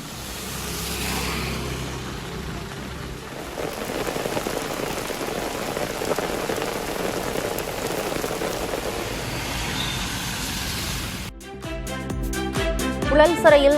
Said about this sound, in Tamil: கனமழை பெய்ததால் தெருக்களில் மழைநீர் பெருக்கெடுத்து ஓடியது